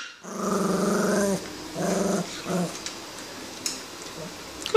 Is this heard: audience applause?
no